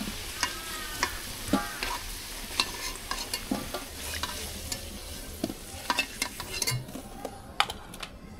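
Potatoes fry in oil until reddish-brown for chicken biryani, with a continuous sizzle beneath frequent clattering stirs of a utensil against the pan, close and fairly loud with no talk.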